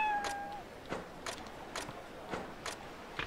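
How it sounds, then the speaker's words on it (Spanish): A cat meows in the video game Ryu ga Gotoku Ishin, one clear drawn-out mew at the start followed by a run of soft, regularly spaced footstep-like taps, all fairly quiet and with no talk. "¿Qué le pasa al gato?"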